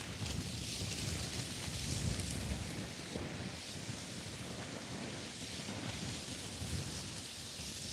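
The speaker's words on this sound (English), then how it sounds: "It's so windy, man." Wind roars across the microphone in a constant low rumble with gusty swells, no voices, just the steady buffeting outdoors.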